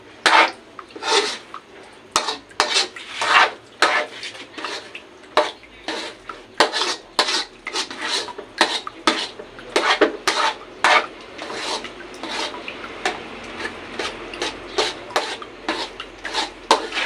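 Ube halaya being stirred in a pan, giving rapid repeated scraping and knocking of a utensil against the metal, loud and close, with no talk.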